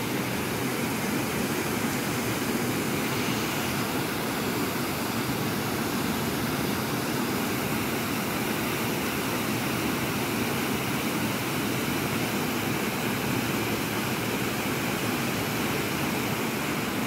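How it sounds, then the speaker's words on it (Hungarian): Ardessie waterfall in the Scottish Highlands roars steadily, a dense, even rush of falling water that stays loud and unbroken throughout. "vízesés."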